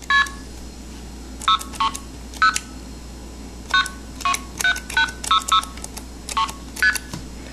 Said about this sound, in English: press 2600, key in a dialing sequence